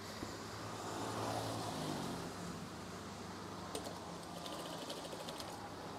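A sewing machine stitches curtain fabric, giving a faint steady whirring hum with light rapid ticking of the needle later on.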